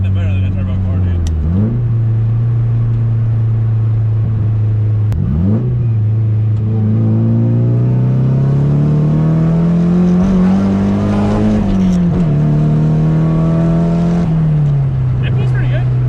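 A Nissan 240SX with a turbocharged SR engine accelerates on the road, its loud, close engine drone climbing and dipping in pitch through several throttle changes and shifts.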